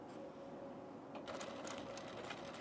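Sewing machine stitching an Ascot tunic cut on the bias, a steady close mechanical hum that brightens into quicker rattling stitches partway through, running alone without talk.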